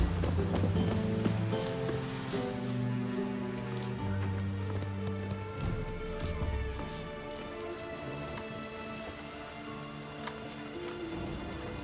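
Rain patters steadily on city streets in The Witcher 3, a soft, constant wash under layered game music with occasional clip-clop hints of a horse.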